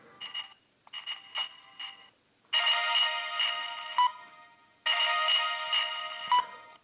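A Siemens C65 mobile phone ringtone plays a bright electronic melody, starting with short chirpy notes and then two longer, louder repeating phrases, close and clear with no talking.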